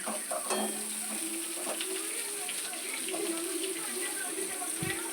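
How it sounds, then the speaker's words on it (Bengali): Long strips of eggplant fry in leftover fish-frying oil, a steady broadband sizzle running throughout with occasional soft clinks and scrapes of a utensil, close and moderately loud. "ওই মাছ ভাজার তেলেই লম্বা লম্বা করে কেটে রাখা বেগুন দিয়ে দিচ্ছি বেগুনগুলোকে আমি ভালো করে একটু লাল লাল করে ভেজে নেব"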